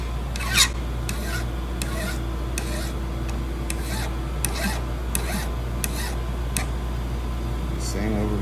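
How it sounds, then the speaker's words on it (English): A metal file working the end of a flintlock rifle ramrod, giving a series of quick, regular rasping strokes, close and crisp over a steady background hum. "Take the file again and get it a little closer"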